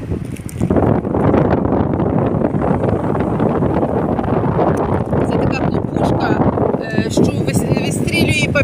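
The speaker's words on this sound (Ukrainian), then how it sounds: "Ой, який вітер, мама мія." Steady, heavy seaside wind buffeting the microphone throughout, a loud broadband roar with gusty fluctuations and no clear pauses.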